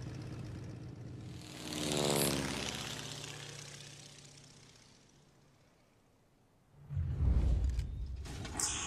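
A propeller airplane in the video game Mafia passes overhead, its engine drone rising, then sweeping down in pitch as it fades into the distance before a loud rumble starts; no talking.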